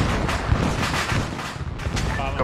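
Continuous booming blasts and rumbling gunfire-like bursts in a dense, chaotic mix in the video game Arma 3, loud and close throughout.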